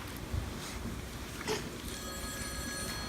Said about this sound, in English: Was that the phone? Shall I answer it?